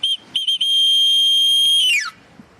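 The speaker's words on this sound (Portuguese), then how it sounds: "Faz aí um apito aí pra gente chamar a atenção da prefeitura." A whistle blown outdoors on a street in Recife to get attention: two short chirps, then one long, loud, steady blast that bends downward as it ends.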